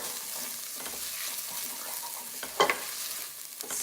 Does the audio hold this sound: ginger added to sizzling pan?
yes